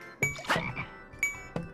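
A frog in Shrek's Carnival Craze gives three short, sharp croaks in uneven succession, close and clear with tinkly game accents in between.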